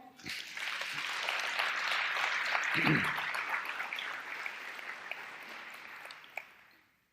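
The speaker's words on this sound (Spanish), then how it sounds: "Le doy un aplauso al Señor" Congregation applause at a church service, a dense, sustained wash of clapping lasting several seconds before tapering off, with a brief voice heard partway through.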